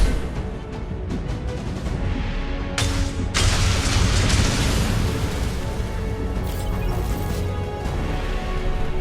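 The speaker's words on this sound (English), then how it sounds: "Watch out, flashbangs!" A flashbang grenade goes off in the video game Mass Effect 2 with one sharp, loud crack and a rushing burst, set against constant dense combat noise and rumble.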